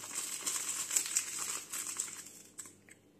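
Plastic packaging of a small Stretch Armstrong toy crinkling as it is opened, close and busy, with rustles and crackles that thin out near the end before one last crinkle.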